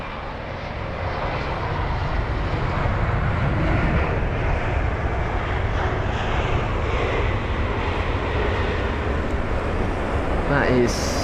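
A British Airways Airbus A320neo arrives at London Heathrow from Berlin, its engine roar loud and steady and broad throughout, with faint voices in the background.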